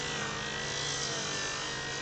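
A power sander works over cured epoxy resin, producing a steady, close, unbroken abrasive whir and hiss with no pauses or voices.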